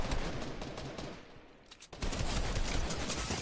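Rapid bursts of gunfire in the video game Fortnite crackle loudly and steadily, dip briefly near the middle, then surge back as dense, continuous shooting.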